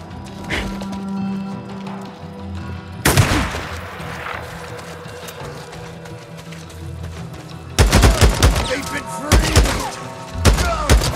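Gunfire from a sniper ambush in the Days Gone video game, with bursts of shots and heavy thuds. Loud impacts cluster around three seconds in and again after eight seconds, over a steady game soundscape.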